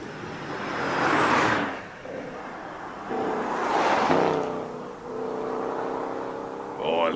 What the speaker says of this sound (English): Here we go, Dan Hirsch coming out there, the Ford Mustang.